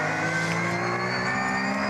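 Race cars at the Nürburgring, including an Audi S3 and a Porsche, roar with a steady high-pitched engine drone and layered harmonic whine, loud and continuous without a break.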